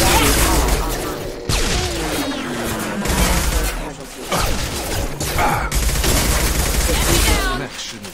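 Sci-fi firefight in the game Mass Effect 2, heavy overlapping gunfire bursts and crashes, loud and nearly continuous, with a voice speaking at moments beneath the shooting.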